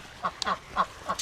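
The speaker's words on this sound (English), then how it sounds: "I think I got a stuck duck over here that I better go take care of first." Swedish Blue duck on a farm at bedtime, giving about four quick, nasal quacks in a loose rhythm, close and fairly clear over a quiet background.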